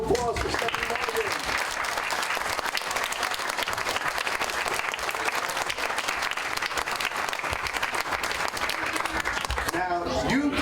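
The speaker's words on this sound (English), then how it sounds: "Let's have a round of applause for Stephanie." An audience at a library summer reading event claps for the librarian in a long, dense, even round of applause that stays loud throughout, with a few voices near the end.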